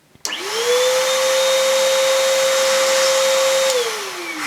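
An Oreck XL Compact canister vacuum cleaner switches on abruptly, spins up to a steady loud whine with a constant hum, then winds down near the end, with no voices.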